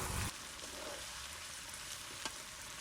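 Chicken with fresh fenugreek leaves sautéing in a pan, a soft continuous sizzle with a brief louder stir at the start, faint and with no talking.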